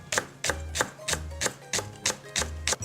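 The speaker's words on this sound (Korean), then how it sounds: "대파 한 대를 송송 썰어 준비해주세요" A knife slices a green onion (daehpa) on a cutting board in a home kitchen. Crisp, evenly spaced chops land about every third of a second, nine in a row, close and clear with nobody talking.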